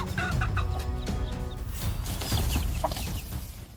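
A mother hen clucks and squawks in an agitated flurry while defending against a bird of prey, loud and close, with rustling and scuffling noises underneath.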